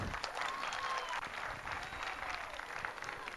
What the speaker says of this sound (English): Big round of applause to all the students